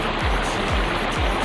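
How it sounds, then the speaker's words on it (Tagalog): Water rushes and splashes steadily over large rocks at a hidden waterfall stream in Sison, Pangasinan, a loud, continuous broadband roar close by with no voices. "Yung tunog ng tubig."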